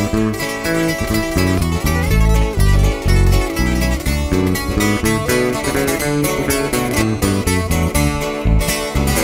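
A norteño band plays a song intro, full and loud, with bass, rhythmic accompaniment and a bright melody line driving along together with no singing yet.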